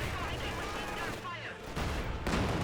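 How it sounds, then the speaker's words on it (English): Mortar fire rumbles in a Company of Heroes 2 battle, blending into a dense, continuous wash of gunfire and explosions with no clear separate shots. "Mortar firing away somewhere."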